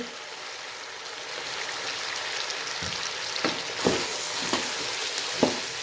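Washed mustard greens hit a pan of fried turnips and sizzle steadily, with a constant hiss broken by several sharp crackles and pops near the end.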